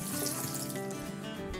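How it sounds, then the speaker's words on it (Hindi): Half a cup of water pours steadily in a continuous splashing stream into mango for a drink purée, with no voices. "अब इसमें हम डालेंगे आधा कप पानी"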